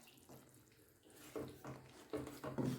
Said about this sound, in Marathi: आता यामध्ये घालत आहे मी पाणी